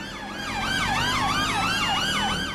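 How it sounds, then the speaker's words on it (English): A British police car siren wails in GTA V, a loud, close, steady up-and-down cycling tone that repeats several times on its own over engine rumble. "so change the siren"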